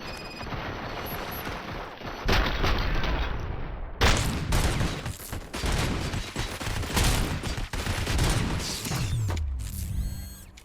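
In the Robocop video game, bursts of rapid gunfire rattle out loud and close, broken by sharp mechanical clanks and ratcheting weapon sounds, with a brief electronic chime near the end.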